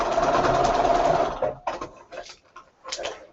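Sewing machine stitching a quilt block, running in a steady close whir for over a second and then breaking into short stop-start bursts of stitches.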